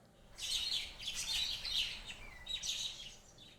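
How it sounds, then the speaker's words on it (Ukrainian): Shrill chirping parrot calls ring out in a few bursts, bright and fairly close, over a faint background hiss. "Це папуга."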